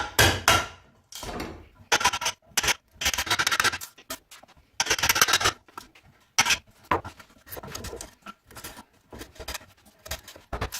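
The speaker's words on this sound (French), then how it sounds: "on prend le ciseau en bois, on la met dans la rainure et on tape" Wooden chisel set in a groove and struck repeatedly, irregular bursts of knocking and scraping taps separated by short pauses, close and fairly loud.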